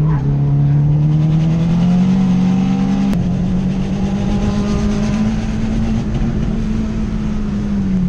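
A big-turbo 2015 Subaru WRX racing in time attack, its engine holding a loud, steady high-revving drone close by that climbs gradually, with a brief shift break partway through and no voices.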